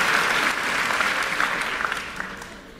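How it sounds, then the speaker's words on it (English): An audience claps at a church sermon, a dense wash of applause that is loud at first and thins out as it fades over a few seconds. "Don't clap yet."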